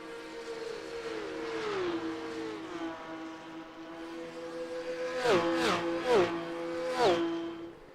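Porsche Cup race cars at Miami International Autodrome, engines droning steadily at moderate distance, then several cars passing in quick succession with sharp rising-and-falling engine sweeps around the middle and end.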